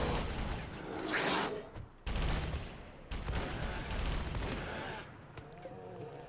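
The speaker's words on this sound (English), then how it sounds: "this one just keeps getting shot up by the guys with the old rivet guns" Bursts of rapid rivet-gun fire in the colony game Rimworld, a clattering fusillade that comes in several loud waves separated by brief gaps, fading to scattered clicks toward the end.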